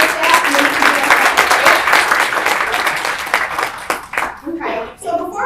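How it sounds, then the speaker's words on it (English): An audience at a Kent Chamber of Commerce State of the Chamber event claps for the new chamber staff, a dense, steady round of applause that thins out into scattered final claps near the end. "round of applause for the new chamber staff."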